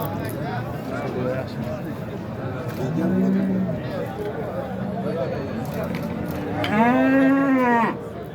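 Cattle at a livestock market in Buvayda, Fergana, moo loudly twice, a long low call then a stronger one near the end, over crowd hubbub and voices talking.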